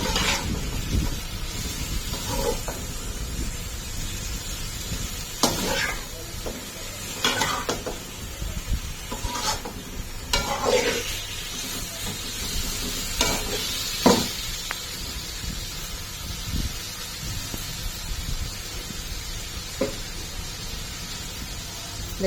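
Potatoes cut into fries are stirred with spices in a frying pan, giving a steady soft sizzle with intermittent scraping and clinks of a utensil against the pan, close up and without talk.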